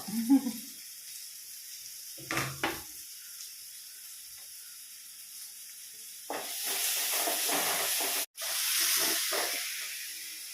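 A chopped onion, with crushed garlic, goes into hot oil in a cooking pan. After a quiet start with a few brief clatters, a loud, steady sizzling hiss begins partway through and continues to the end.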